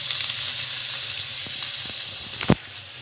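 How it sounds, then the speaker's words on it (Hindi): Spices frying in a pan for stuffed bitter gourd with minced meat, a steady close hiss and sizzle with one sharp clink or scrape near the end. "इसको थोड़ा सा मैंने हल्का सा इसको खुशबू के लिए फ्राई कर लेना है"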